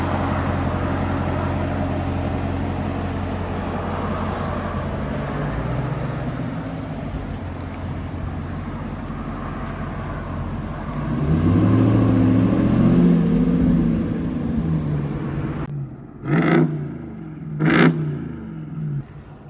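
A RAM TRX with the 6.2 engine and a Corsa Xtreme exhaust idles with a deep steady rumble, then swells into a louder rev before dropping and giving two quick sharp blips near the end.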